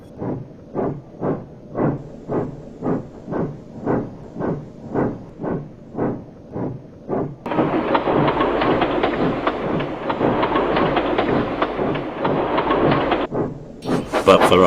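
Thomas the Tank Engine steams along pulling a train, rhythmic chuffing puffs repeating steadily for several seconds, then giving way to a loud continuous hiss of steam that runs on before a final burst.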